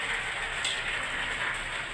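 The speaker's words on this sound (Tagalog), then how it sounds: "Dito ang ulan mga beso. Lakas ng ulan." Heavy rain pours down in a steady, dense hiss, loud and continuous with no voices.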